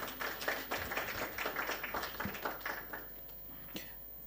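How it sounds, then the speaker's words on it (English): Audience at a conference meeting applauds the presenting groups, a dense burst of clapping that fades out over the last seconds, with a few isolated claps trailing off. "Shall we give a bigger applause to all the groups?"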